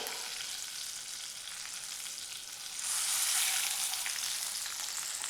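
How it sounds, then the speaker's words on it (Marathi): Rava-coated pomfret fish fries in a pan with a steady, close hiss of sizzling oil that swells louder and brighter partway through, with no voices. "दुसरी बाजू पण आपण फ्राय करून घेतली आहे"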